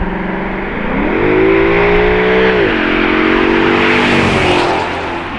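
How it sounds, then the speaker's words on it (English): A Maserati Quattroporte S M139 with a peaky 4.7 V8 revs up close and loud. The pitch rises and holds, dips, then climbs again in a smooth, strong roar as the car accelerates. "a peaky V8 engine that revs up to 8000"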